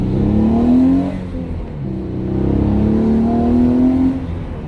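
Genesis Coupe exhaust with the resonator deleted, revving in two steady swells, each rising in pitch, then easing off. The engine drone stays close and loud, with a low rumble under it and no talk.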